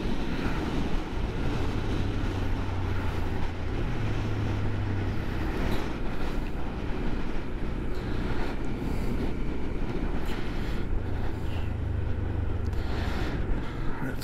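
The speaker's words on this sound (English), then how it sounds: "But that road noise today is horrible." Steady, loud broadband rumble of road and wind noise while riding an older carbureted motorcycle past swampland subdivisions, continuous and droning with a low hum throughout, no speech.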